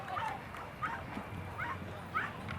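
Small dog yips sharply a few times at irregular intervals, high and light, over a low background rumble and faint crowd noise at a dog agility competition.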